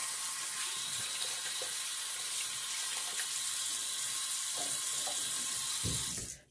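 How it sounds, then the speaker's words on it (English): Cold water runs steadily from a tap onto a shaving brush, a continuous close splashing stream that fills nearly the whole stretch before cutting off at the end. "I'm just going to add some cold water to the brush and get it cold"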